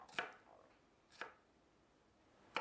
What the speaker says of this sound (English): Slice the green beans as well.